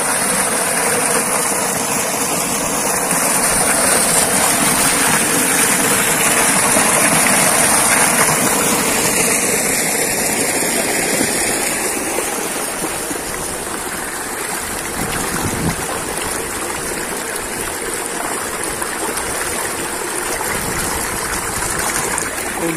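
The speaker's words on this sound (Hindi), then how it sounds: "ये देखो बिजली ट्यूबवेल जो है हमारी चल गई" An electric tubewell pump in a rural Indian village runs and pours water. A steady engine hum mixes with continuous rushing, splashing water, loud and close throughout, with no talk.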